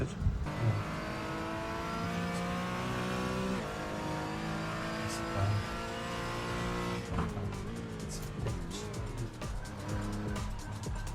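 A race car in the iRacing simulator laps the Nürburgring during a 24-hour race, its engine droning steadily and rising in pitch through repeated upshifts, with harsher, busier revving near the end.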